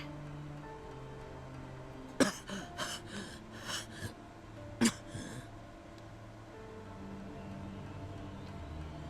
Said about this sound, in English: he coughed as if his lungs were going to collapse